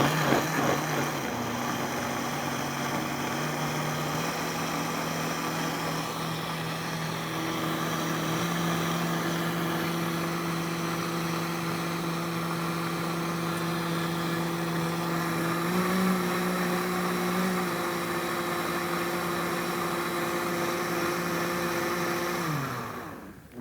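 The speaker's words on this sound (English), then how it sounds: "we're going to grab our blender here, pop the top on, and we're going to blend" Countertop blender pureeing tomato bisque, a loud steady motor whine running for over twenty seconds, its pitch stepping up once early on and holding before winding down at the end.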